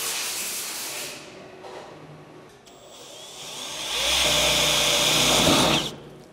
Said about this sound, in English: let's go ahead and get these holes drilled so we can move on to the next step